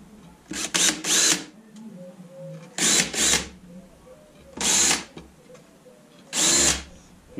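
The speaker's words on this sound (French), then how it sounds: "Je me sers d'une mèche étagée." A step drill bit bores through a workpiece in four short, loud bursts separated by pauses, each a whining power-drill spin that rises and cuts off.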